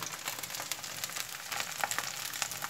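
Triangular polenta pieces studded with raisins browning in a little oil and butter, giving a dense, continuous close sizzle with crackling pops throughout and no voices.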